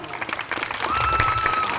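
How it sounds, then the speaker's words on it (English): A studio audience claps and applauds for a short burst at a Simon Says game show, the dense clapping rising and holding loud, with a brief tone sounding partway through. "Simon says, give yourselves a great big round of applause."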